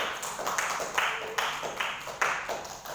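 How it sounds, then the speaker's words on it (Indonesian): A classroom audience claps for a presenting student group, with brisk, evenly spaced claps rising and fading over a few seconds. "Oke, beri tepuk tangan pada kelompok."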